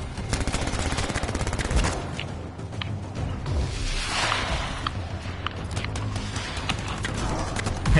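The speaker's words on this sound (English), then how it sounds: "I like the slow ass machine gun." Sustained machine-gun fire in a video game, loud and continuous with dense overlapping shots and no pauses.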